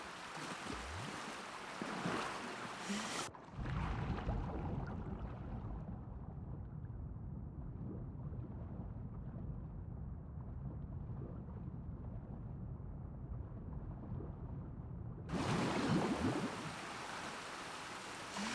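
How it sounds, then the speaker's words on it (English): Rushing water from a waterfall in The Last of Us Part II roars as a steady broadband wash, framed by brighter, louder splashing bursts at the start and end. "I count that as a waterfall"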